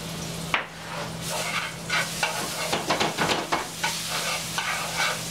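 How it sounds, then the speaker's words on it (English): Three cloves of minced garlic hit hot olive oil in a pan, giving a steady close sizzle with repeated stirring scrapes and a faint hum underneath, no talking. "we're going to put in our 3 cloves of garlic that have been minced"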